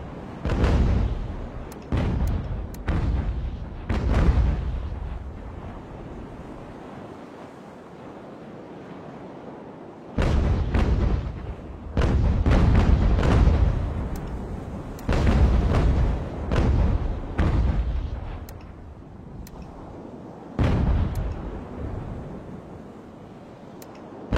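Cannon and musket fire in the Ultimate General: American Revolution battle game, with repeated heavy booms and crackling volleys in clustered bursts over a steady rumbling background.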